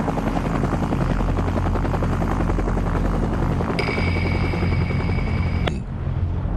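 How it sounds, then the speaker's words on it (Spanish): A loud helicopter thrums with rapid rotor chop, close and continuous, with a steady high tone cutting in near the end before stopping abruptly. "El helicóptero acaba de llegar,"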